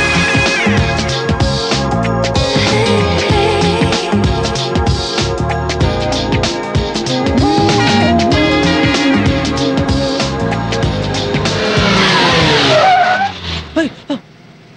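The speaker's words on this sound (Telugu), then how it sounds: "ఏంట్రా అంత సడన్ గా బ్రేక్ వేసావు?" A car rushing along with its engine roaring amid dramatic music, then a sharp screech of tires as it brakes suddenly near the end, the sound cutting off abruptly.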